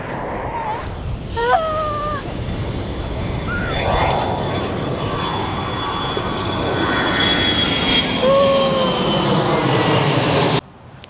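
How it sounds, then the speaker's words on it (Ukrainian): A loud, steady roar of jet airplanes taking off near a beach in Phuket fills the whole stretch, with a few bird chirps and faint voices over the engine rumble before it cuts off. "тут, походу, теж злітають літаки прикольно"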